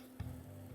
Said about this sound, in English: And you can hear that sizzle, so you know it's got some heat to it.